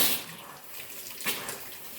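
Hot water rushes steadily into an outdoor hot tub, a broad, constant hiss and splash up close that swells briefly midway.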